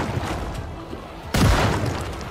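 Shotgun blast in the Project Zomboid video game: a sudden loud boom cuts in partway through, following a stretch of busy low rumbling game noise, and its heavy tail lingers to the end.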